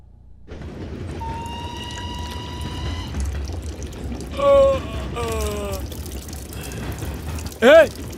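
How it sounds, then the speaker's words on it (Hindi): Water flows steadily under voices and tonal music, with a couple of brief louder splashing surges partway through. "ए, पानी बह रहा है।"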